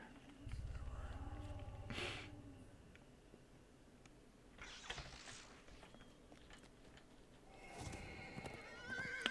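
A Nightmare Horse mount in the online game DDO neighs and whinnies in short bursts, with hoof clops and a snort mixed into a busy game soundscape.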